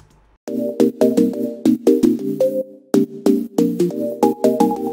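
A synth plays a chord progression with its MIDI arpeggiator switched off, blocky sustained chords struck in short, uneven bursts with brief gaps between them, clear and close with no voices.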